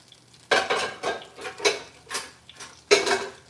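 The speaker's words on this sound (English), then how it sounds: "We're gonna put this pan in the sink." A cooking pan is set down in a kitchen sink, clanking and clattering in about half a dozen separate metallic knocks and scrapes, close and fairly loud with no talk.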